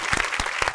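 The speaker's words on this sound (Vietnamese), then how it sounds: "Mời 15 người vỗ tay." A short burst of applause from about fifteen guests at a television dating show, brisk clapping filling the moment, close and moderately loud.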